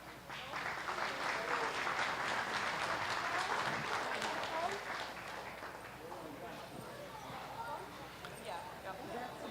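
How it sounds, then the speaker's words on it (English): Steady audience applause at an open-class dairy show after heifers are placed, moderately distant and sustained for several seconds in a large show space. "both nice fancy heifers and deserving of your applause"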